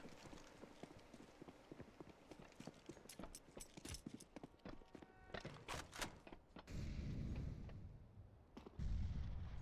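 Pistol gunfire in a Counter-Strike match on the map Train comes as quick runs of sharp, fairly faint cracks and thuds, with denser clusters of shots before the sound settles into a steadier background noise.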